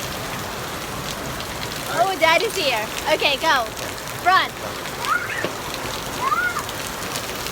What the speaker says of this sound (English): Look, it's raining so hard.